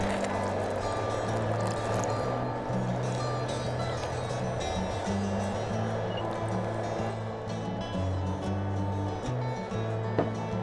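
A litre of water pours steadily into a pot holding peeled, diced potatoes for a Peruvian lunch dish, a continuous close splashing stream over a low background hum.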